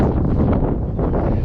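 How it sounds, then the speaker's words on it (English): Steady, heavy wind buffeting close to the microphone on a fishing pier at the W.P. Franklin Lock and Dam in Alva, Florida, a dense low rumble with no pauses throughout. "Very windy today."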